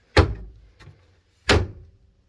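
Compartment door on a 2008 Country Coach Intrigue motorhome opening onto a washer dryer combination unit, giving a sharp thunk, a faint knock, then another solid thump, close by with no talking.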